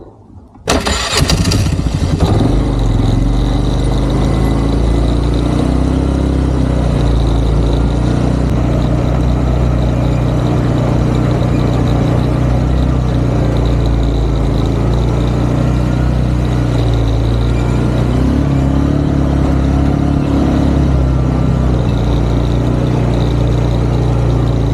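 Tractor engine starting up on a farm during livestock fence building, catching with a loud crank and then running at a steady, close, continuous idle-to-working drone throughout, with no talk.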